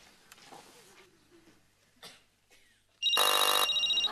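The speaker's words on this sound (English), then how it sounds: "I'll call Father Larry Duff" A telephone rings loudly near the end, a single sustained electronic bell burst after quiet moments of faint movement and room noise.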